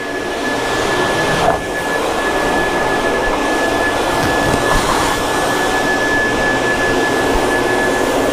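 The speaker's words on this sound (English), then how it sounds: "Air dryer." A handheld electric air dryer blows water off a freshly washed motorcycle, a loud, steady, close whooshing roar that runs unbroken and without talk.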